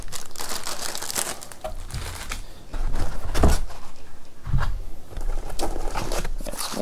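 Scentsy warmer box packaging being unpacked, with dry crinkling and rustling of paper and cardboard in bursts, several louder handling thumps, close and fairly loud with no talking.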